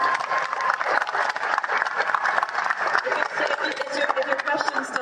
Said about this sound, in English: round of applause right quick for her